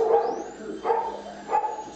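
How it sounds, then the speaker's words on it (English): Playful puppies giving a few short, soft yips and barks, close by with quiet pauses between them and no voices. "Such foolish little puppy dogs."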